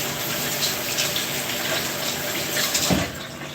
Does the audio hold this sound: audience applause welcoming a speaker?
no